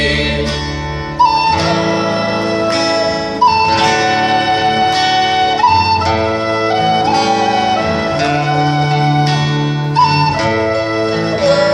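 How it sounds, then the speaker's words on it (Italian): A Sicilian ciaramella bagpipe plays loud and close at a live 2016 folk performance, holding a steady drone beneath a phrased, ornamented melody that repeats in even cycles, with no talking. "ciaramella suona così"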